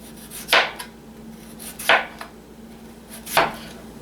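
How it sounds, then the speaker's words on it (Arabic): A knife cuts through potatoes on a board in three distinct, spaced chops, each a crisp close thud with a short scraping tail, over a quiet background. "تعالوا نشوف ازاي هبتدي اقطع البطاطس"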